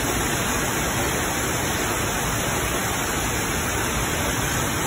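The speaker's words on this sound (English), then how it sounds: "Raining in Florida too, by the way." Steady rain falls in Florida, a dense, even hiss of heavy downpour that stays loud and unbroken throughout, with no voices over it.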